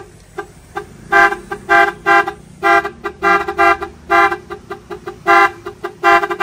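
A loud, close 12-channel multi-tone horn module on a tricycle blares in a rapid rhythmic sequence of repeated honks, pulsing on and off like a patterned musical horn.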